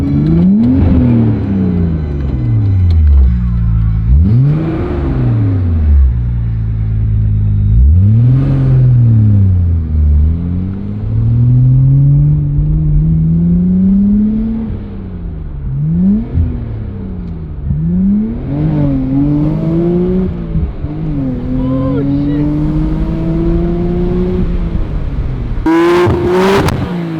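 A Nissan GT-R fitted with a new exhaust revs repeatedly and loudly up close, each throttle blip rising and falling in a sweeping engine note over a steady idle rumble, with no talking.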